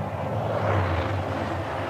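Steady, loud drone of the Bell XV-15 experimental tiltrotor aircraft in flight, a constant engine and rotor roar with no voices.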